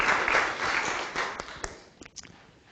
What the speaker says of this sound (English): Round of applause for Alina.